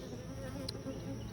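Honeybees at a hive buzz in a steady, close, continuous drone with no break, with no one talking.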